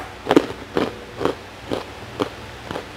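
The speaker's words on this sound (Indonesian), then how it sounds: "Untuk yang kecil ini lebih kriuk banget teman-teman." Crunchy homemade cheese sticks are bitten and chewed close up, giving six evenly spaced crisp crunches, each a short sharp crackle over a quiet background.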